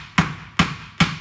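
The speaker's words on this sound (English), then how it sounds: "I tap down with the hammer so both sides are snugged up" Three evenly spaced hammer taps on a table frame during assembly, sharp close knocks about every 0.4 seconds with short ringing decays, no talk.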